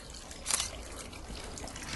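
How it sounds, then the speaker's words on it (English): Water trickles softly in a community garden pond, recycled through a sand filter, giving a faint steady babble with one brief brighter splash. "You can probably hear the trickling of water."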